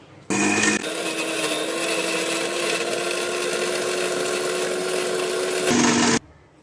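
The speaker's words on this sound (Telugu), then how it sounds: "అందులోనే మిక్సీ పట్టుకోవాలి" A mixer grinder grinding cardamom whirs loudly and steadily for about five seconds, starting abruptly and cutting off sharply, with a high motor whine throughout.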